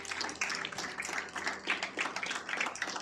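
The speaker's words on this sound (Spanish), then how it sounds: "Alguien dele un aplauso fuerte" A church congregation applauds loudly at a sermon, a dense, continuous wash of many hands clapping at once, steady throughout with no single voice standing out.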